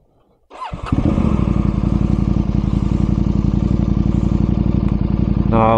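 A motorcycle on a mountain road engine-brakes in first gear. The engine kicks in after a brief quiet start, then holds a loud, close, steady pulsing drone.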